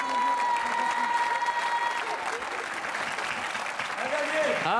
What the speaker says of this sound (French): je voudrais qu'on applaudisse très fort notre ami Patrick Fiori qui est avec nous ce soir